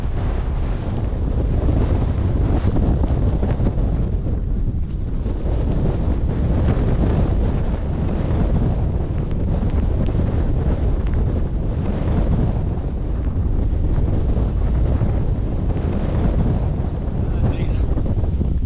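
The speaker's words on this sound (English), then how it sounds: "Bloody hell, it's windy." Strong, steady wind roars and buffets the microphone throughout while wild camping in the hills near Place Fell, a dense low rumble with no pauses.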